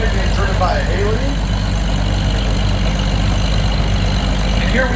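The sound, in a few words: 1953 Farmall Super A tractor engine running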